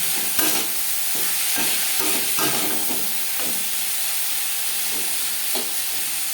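Peas, carrots and other vegetables are lightly stir-fried together in a pan for fried rice. A steady hiss of sizzling oil runs throughout, punctuated by irregular scraping and tapping strokes of the spatula.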